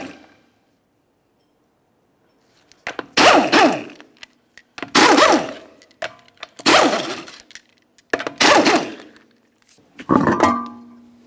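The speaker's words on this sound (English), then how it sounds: "continue on to removing all five of your 19 millimeter lug nuts and then the wheel." An impact wrench removes the 19 mm lug nuts from the front wheel of a 2003-2007 Honda Accord, with five loud rattling bursts about a second each and short gaps between them.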